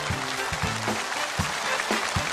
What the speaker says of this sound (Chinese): 让我们掌声欢迎来自于山西的脸谱制作者董泰林